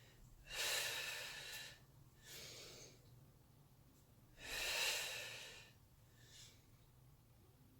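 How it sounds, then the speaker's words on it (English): Slow, deliberate breaths during a morning Pilates exercise, with two long airy exhales and shorter inhales in a steady rhythm, close to the microphone and fairly quiet. "Exhaling as you come down, inhaling as you come up."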